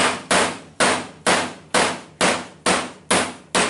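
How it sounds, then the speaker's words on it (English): Eight sharp, evenly spaced hammer taps on a 3/32 inch punch driving a pin from a CZ P-07 pistol slide on a gunsmith block, each strike crisp and close with a short ringing decay. "tap the spring out."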